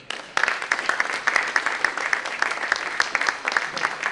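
Audience applause for Reverend Ronald Braxton at a gathering, a brisk round of crowd clapping starting suddenly and continuing steadily to the end.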